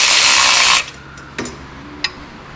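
Electric ratchet driving clutch pressure plate bolts, a close, loud whirring burst that cuts off after under a second, followed by a few faint clicks and taps.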